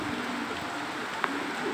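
A racing pigeon coos softly and close by, a low murmuring call over steady background hiss with a brief click partway through.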